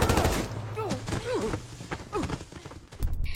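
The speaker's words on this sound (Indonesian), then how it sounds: "meluncurkan tembakan kedua" Bursts of gunfire ring out in a tense film scene, several sharp reports in quick succession at the start and again near the end, mixed with voices and whining tonal effects.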